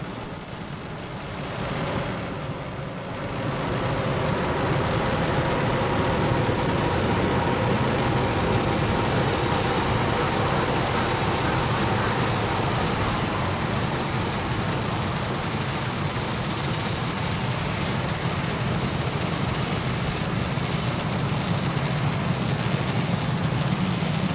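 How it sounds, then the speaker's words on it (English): A SpaceX Falcon 9 rocket climbs during its launch ascent on the Transporter-1 mission, its engines a broad, steady rumbling roar that swells after a few seconds and then holds loud and unbroken throughout. "Falcon 9 has cleared the tower and is currently throttling down to prepare for max Q"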